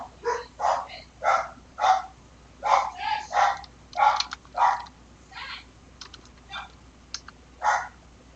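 Several dogs at home bark in a rapid irregular series of sharp, fairly close yips and barks, some of them overlapping, with faint clicking in the background between them.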